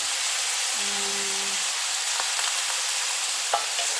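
Cabbage and mixed vegetables, including snow peas, stir-frying in a pan for pancit noodles: a steady loud sizzle with brief clinks of stirring and a low hum near the start.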